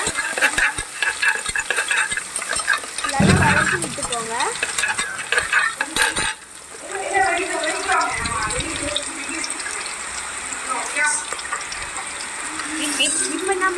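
Cashews sizzle steadily in a hot pan for samba rava pongal while a spoon stirs and scrapes through them, close and continuous, with a voice briefly audible in the background.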